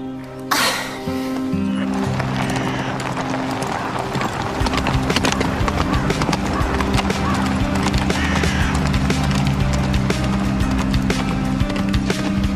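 Horse hooves clip-clop in a steady rhythm on a hard surface, nearby and continuous, with a brief snort or whinny near the start.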